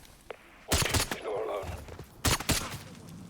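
Gunfire from an M14 rifle in a Call of Duty video game: a few loud bursts of shots in two clusters, with a faint earlier report and a lingering echoing tail between them.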